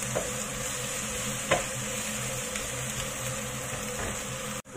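Onions frying in a pan for pork teriyaki, a steady close sizzle with faint stirring scrapes and one brief louder clink, continuous throughout.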